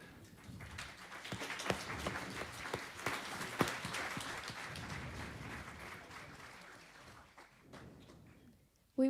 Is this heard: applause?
yes